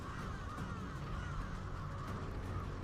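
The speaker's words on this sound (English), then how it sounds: "Crows." Crows caw in Diablo 4, harsh raspy calls heard at moderate distance over a steady low ambient backdrop, alone without talk.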